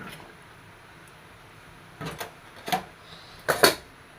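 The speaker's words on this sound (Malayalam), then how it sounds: "മൂടി വെച്ച് കൊടുക്കാം." A lid set down on a pot of mackerel curry simmering in coconut milk, giving a few short, sharp metallic clanks and knocks in quick succession against a quiet kitchen background.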